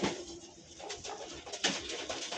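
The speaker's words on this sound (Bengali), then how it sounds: "এই হচ্ছে পায়রার আইস কোয়ালিটি, চটিয়াল পায়রা" Highflyer pigeons cooing softly at close range, with rustling and a brief burst of wing flapping, fairly faint throughout.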